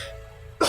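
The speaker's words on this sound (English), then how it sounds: "sorry, I knew there was going to be at least one cough" A single short cough bursts out abruptly near the end, loud and close, after a stretch of quiet room tone.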